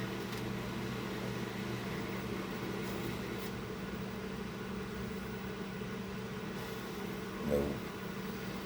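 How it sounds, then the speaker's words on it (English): A dishwasher runs nearby with a steady mechanical hum and whir, continuous and even, with a brief low thump near the end. "you hear the dishwasher in the background"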